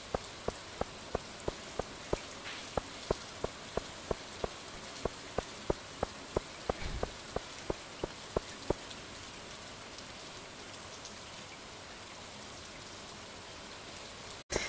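Steady rain from the Stardew Valley farming game, a soft continuous patter that stays alone throughout, with a regular row of light ticking clicks sounding over it for the first nine seconds or so.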